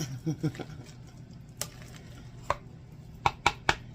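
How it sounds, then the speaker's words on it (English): Cooked food being mashed up in a bowl for oven-baked pork chops with canned pineapple, a few soft squelchy presses early on followed by sharp utensil knocks against the bowl, close and fairly quiet. "kind of mash them up a little bit"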